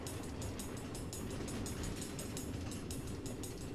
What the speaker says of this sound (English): Automated train tracks running all through the Nether, connecting all the different order members?